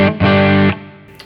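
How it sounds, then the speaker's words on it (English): Harley Benton CST 24 Deluxe electric guitar on a clean channel with only slight reverb, strumming two loud, sustained chords in quick succession that ring out and fade, with no talking. "I'm playing very simple chords just so you can hear the guitar."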